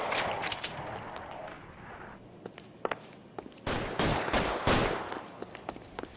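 Gunfire in the L.A. Noire video game during a shootout to clear a top floor: a string of sharp, loud shots and short bursts, some crowded close together, over a steady background bed of game ambience.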